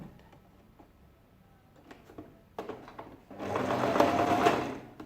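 A sewing machine stitches a ladies' shirt dress, starting with quiet handling clicks before a steady whirring run of stitches that swells and then eases off near the end.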